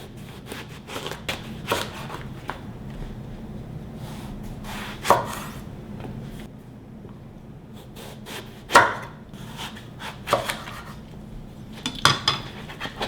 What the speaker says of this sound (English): And slice just lengthwise around 1/4 inch thick.